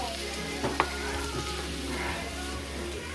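Bacon sizzles and crackles in a frying pan, a steady close hiss with a couple of brief clinks from stirring, and no one speaking.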